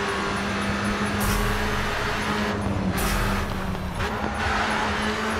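A Caterham SP 300 R race car drives through Hong Kong streets in the video game GRID 2, its engine a sustained, steady hum with brief surges of rushing noise as it speeds along, with no voices.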